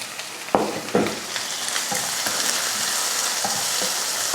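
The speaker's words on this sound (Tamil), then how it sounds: "இஞ்சி பூண்டு போட்டு வதக்கினதுக்கப்புறமா தக்காளி சேர்த்துக்கலாம்." Tomatoes frying with ginger garlic paste for a potato masala gravy sizzle loudly and steadily, broken by a few sharp scraping stirs of a spatula against the pan. No voices are heard.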